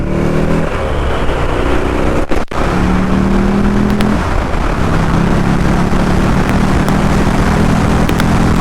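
A Buell motorcycle engine pulls hard on the throttle while riding on rural roads in the Hauts-de-France, a loud, close, continuous roar with rising pitch sweeps as it accelerates through the gears, heavy wind noise underneath.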